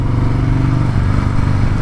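A motorcycle engine drones steadily and loudly at cruising speed, with a constant low rumble and no voices.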